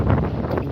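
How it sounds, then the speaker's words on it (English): Outdoors, wind buffets the microphone with a continuous low rumble and rustle; no one speaks. "wow, that's windy."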